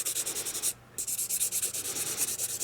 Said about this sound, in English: I'm going to take my 8080 buffing block by Couture, and I'm going to go ahead and buff.